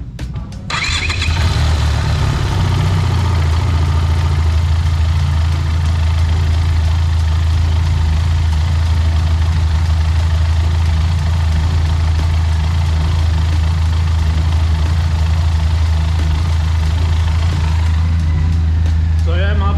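A Benelli TRK502X adventure motorcycle engine cranks and catches, then settles into a steady, loud, close idle with a deep low rumble that continues to the end.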